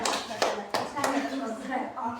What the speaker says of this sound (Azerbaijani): hadi bir alqışlayaq